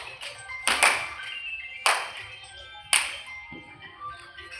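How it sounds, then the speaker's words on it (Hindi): Three loud, sharp hand claps ring out at uneven intervals during a yoga session, each with a short fading tail, and nothing else is heard between them. "जोरदार ताली का प्रहार करते हैं।"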